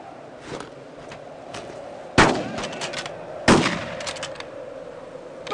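Gunfire in the World War II shooter game Brothers in Arms: Road to Hill 30: two sharp, loud rifle shots about a second apart stand out over a steady bed of battlefield noise, with fainter distant shots scattered throughout.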